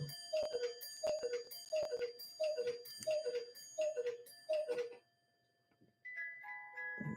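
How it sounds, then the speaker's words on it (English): A cuckoo clock chiming noon, with a steady run of about seven two-note calls, each with a wooden click, fairly close and clear, then a short pause and a few other tones at the end. "there's the cuckoo clock"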